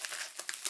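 Packing tape crinkling and tearing as it is unwrapped from new motorcycle crash bars for a Honda CTX700N, a brief close crackle of plastic with small sharp peaks.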